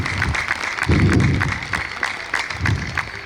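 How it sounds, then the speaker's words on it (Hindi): A group claps at a yoga workshop held in a university physical education department, a short burst of applause with scattered thuds, fairly close and without talk. "क्या बात है, ताली बजाने दोस्तों।"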